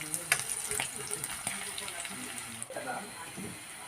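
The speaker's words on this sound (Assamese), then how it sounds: "জলকীয়াখিনি অকণমান ভাজি ল'ম, যাতে কেঁচা হোৱাটো অকণমান ৰঙচুৱা হয়।" Slit green chilies fry in a pan with a constant soft hiss and sizzle. Light stirring clicks come through, and quiet speech runs over it.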